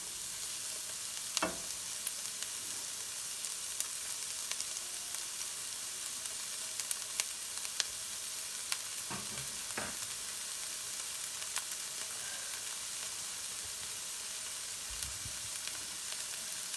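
Garlic and onion sauté in a pan with a soft, steady hiss of sizzling oil, broken by a few faint clicks and light stirring taps, close and fairly quiet with no talk.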